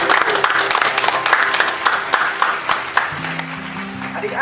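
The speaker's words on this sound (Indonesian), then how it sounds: "Kasih tepuk tangan yang meriah buat Tuhan." Children clapping during a church service, loud uneven applause with sharp individual claps, while someone speaks over it and a sustained tone enters toward the end.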